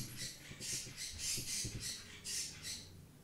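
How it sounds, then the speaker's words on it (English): Pet bird indoors squawking in a quick run of sharp, fairly faint bursts, about seven calls with short gaps between them, heard close but at low level with no talk. "I don't know if you guys can hear that or not, but we have a bird."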